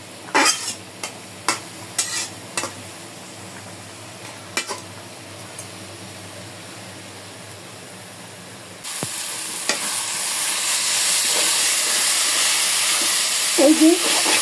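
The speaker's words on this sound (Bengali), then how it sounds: "এই যে আমার লাল শাক ভাজা হয়ে গেছে" Red amaranth greens are stir-fried with small river shrimp in a pan: a spatula gives a few scattered scraping taps, then a steady, loud sizzle and hiss of frying takes over.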